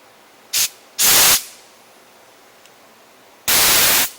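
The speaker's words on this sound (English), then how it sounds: "Just have some compressed air, and we're just going to run it through everything. All the holes." Compressed air blasts through the holes of an Echo SRM string trimmer that has no power when the trigger is pulled: a short hiss, then a longer loud blast, a pause, and another long burst, close and with no talk.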